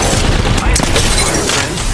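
Gunfire in Apex Legends crackles as a loud, dense barrage of shots and booms that runs continuously through the whole moment, with a voice faintly under it.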